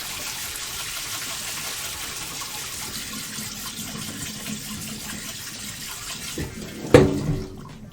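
Running tap water pours steadily over a whisk being cleaned after cake batter, a close, continuous gush that swells and splashes more loudly near the end as the whisk is moved under the stream.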